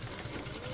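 A sewing machine stitches in a short, steady mechanical whir with a fast, even rhythm, close and faint, no talking.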